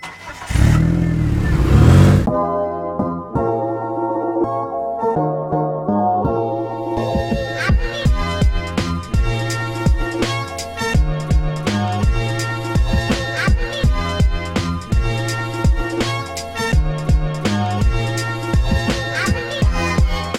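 An F1 single-seater engine in a racing simulator at the Le Castellet circuit: a loud synthetic whine that rises and falls with repeated gear shifts, after a brief burst of noise at the start.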